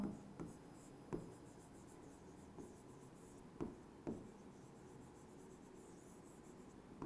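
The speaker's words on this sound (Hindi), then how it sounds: "यहां पर मैं लिखता हूं" Chalk or marker strokes on a classroom board during a chemistry lecture, a faint scratchy rubbing broken by several sharp taps as letters are formed, with no talking.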